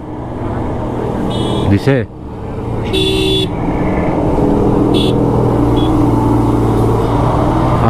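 Cars and motorcycles on a winding mountain road in Bandarban, Bangladesh: engines hum steadily close by while horns toot several short times, with someone speaking briefly in between.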